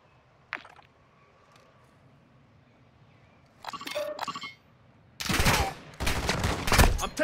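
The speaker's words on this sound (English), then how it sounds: "I'm taking fire!" Video game gunfire rings out as a combat scene unfolds: a single sharp shot, then bursts of rapid automatic fire that grow louder and denser toward the end, with brief metallic clinks between them.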